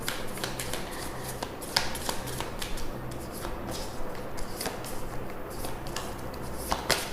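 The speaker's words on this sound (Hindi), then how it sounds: "तो मैं इसको रख देती हूँ, वापस शफल करती हूँ" Tarot cards are shuffled continuously up close, giving a dense papery riffling and flicking with occasional sharper snaps, steady and moderately quiet throughout, with no talk.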